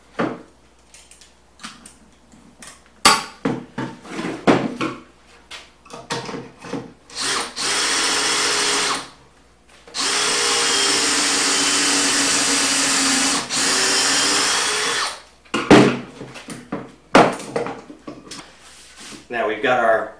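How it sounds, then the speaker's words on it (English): A power drill bores pocket holes into wood through a pocket hole jig in several long, steady whirring runs, separated by clattering and knocking of tools being handled. "and we're going to drill three holes in it."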